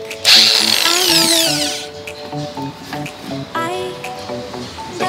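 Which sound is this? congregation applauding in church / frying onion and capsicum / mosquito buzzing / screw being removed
screw being removed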